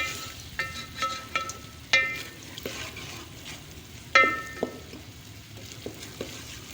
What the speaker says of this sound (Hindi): तो अब इन मसालों को हम कर लेंगे मिक्स और अच्छी तरह भून लेंगे